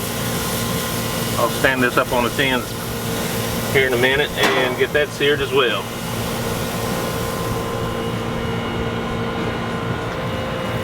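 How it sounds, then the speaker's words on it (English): An air conditioner runs as a steady broadband hum with tonal lines throughout, sitting under a man's speech beside a Char-Broil Performance Series gas grill while a pork loin roast is seared. "I will apologize for the AC noise"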